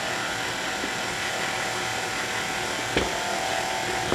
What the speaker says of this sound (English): And once that's combined, you can start the mixer.